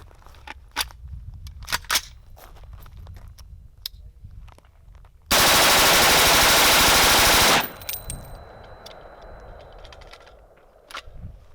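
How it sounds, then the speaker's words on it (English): Colt CK901 rifle in 7.62x39 fired full automatic in one long mag dump, a loud, dense burst of about two seconds amid scattered clicks and handling noise, followed by a ringing tail. "We're going to go ahead and light it up, full automatic, do a mag dump."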